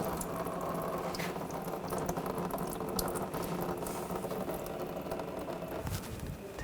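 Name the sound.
coolant draining from a Volkswagen Tiguan engine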